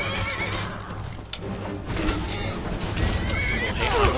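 A horse whinnies loudly in the video game Skyrim amid hoof clip-clops and a busy, rumbling background.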